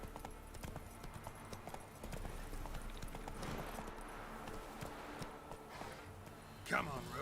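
Hooves of Roach, the horse in The Witcher 3: Wild Hunt, clip-clop in a steady galloping rhythm that continues throughout, close and moderately loud, with a voice speaking over it.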